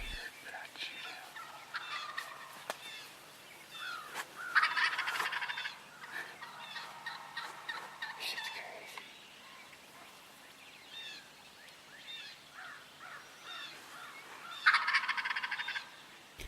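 A wild turkey tom gobbles nearby in an Illinois spring field while strutting, with two loud rattling gobble bursts separated by quieter stretches of soft bird calls.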